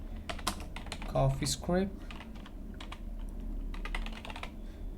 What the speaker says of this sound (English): So here in your Linux console, I'm going to type this command